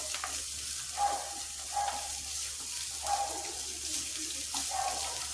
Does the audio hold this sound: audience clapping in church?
no